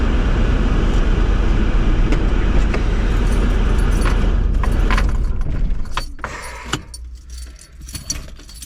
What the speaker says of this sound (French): D'ailleurs, voici la petite clé.